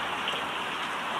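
Heavy rain falls outside in a village, a dense, steady hiss of drops striking surfaces that carries on evenly and loudly throughout with no voices.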